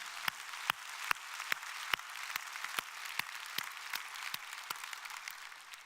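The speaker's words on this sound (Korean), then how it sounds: "하나님께 영광의 박수로 영광 돌리겠습니다" Congregation applause during a Korean Sunday church service, moderately faint clapping with sharp regular beats standing out, giving a steady rhythmic pattern throughout.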